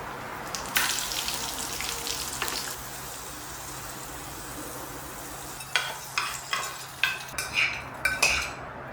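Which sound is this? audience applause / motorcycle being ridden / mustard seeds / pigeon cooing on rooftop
mustard seeds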